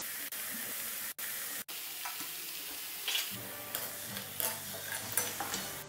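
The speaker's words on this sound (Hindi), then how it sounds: "जितनी मटरी एक बार में आ जाएंगी उतनी हम फ्राई करेंगे" Pizza-flavoured wheat flour mathri fry in a batch in hot oil, a close, continuous sizzle and bubbling with light clinks of a slotted spoon turning the pieces.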